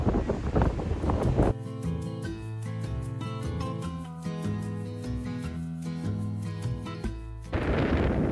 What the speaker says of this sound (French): La tempête est toujours là.